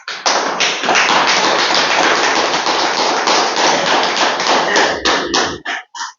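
An audience applauds with dense, continuous hand clapping that is loud and close, fading into a few scattered final claps.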